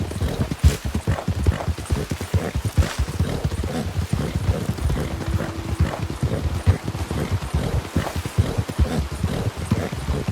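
A Mustang horse gallops in Red Dead Redemption 2 during a winter endurance race, rapid continuous hoofbeats thudding in a steady rolling rhythm, loud and close, with little else over it.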